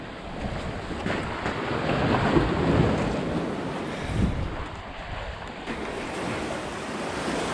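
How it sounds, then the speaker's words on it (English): Ocean waves break and wash onto a beach in a steady, rolling roar, heavily mixed with gusting wind rumble on the microphone, with no voices. "We made it to the beach."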